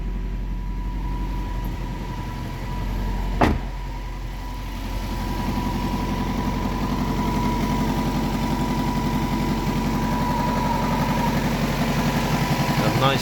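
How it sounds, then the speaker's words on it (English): A Toyota Corolla 4A-F engine with a Solex carburetor idles a little high, a steady, even mechanical hum with a faint regular pulse and a single sharp click near the start. "it's idling a bit high, still have to adjust that a little"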